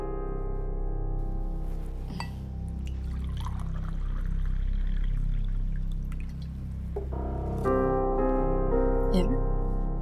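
Water poured into a glass indoors, a soft running pour that fills steadily under a background music score.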